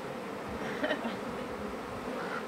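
Honeybees buzz in a steady close hum that swells slightly and keeps on without a pause, with no voices over it.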